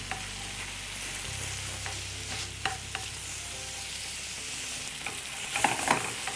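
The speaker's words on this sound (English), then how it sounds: "So while your vegetables are sauteing" Vegetables seasoned with salt and pepper sauté in a hot pan for Moroccan couscous, giving a continuous close sizzle with occasional crackles and stirring scrapes, no talking.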